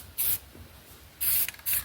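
Short hissing bursts of clear coat are sprayed onto an Enkei wheel from a 2003 Mitsubishi Galant, three close, even blasts separated by brief pauses.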